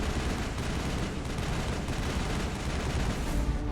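Continuous dense gunfire in the Mass Effect video game, a loud sustained barrage of rapid overlapping shots with no pauses.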